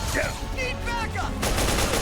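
Gunfire in Metal Gear Solid 4: Guns of the Patriots, loud and close, sounds under a shouting voice and then erupts into a dense, continuous burst for the final half second.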